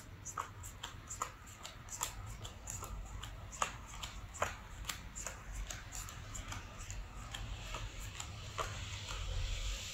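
Playing cards handled and split into piles on a table, a close run of soft flicks, snaps and riffling taps at an irregular pace, no talk.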